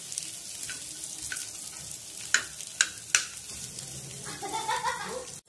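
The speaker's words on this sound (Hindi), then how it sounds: "चम्मच चलाते हुए इसे अच्छे से भून के लेंगे।" Onion sizzles steadily in a hot pan while a spoon scrapes and knocks against the metal a few times, with a louder hiss building near the end.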